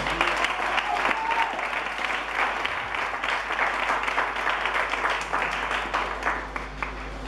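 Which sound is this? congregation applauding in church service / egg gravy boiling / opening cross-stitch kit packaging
congregation applauding in church service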